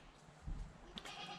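A goat in a farm stall gives one short, fairly faint bleat, with no other voices present.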